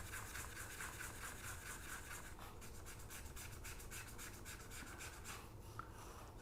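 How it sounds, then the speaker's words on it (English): Paint rubbed off a small painted Star Wars Legion miniature barricade, making a steady close scratchy rasp that runs on without a break, with fine rapid strokes showing through in the second half. "You want to rub off as much as possible, where it's very barely visible."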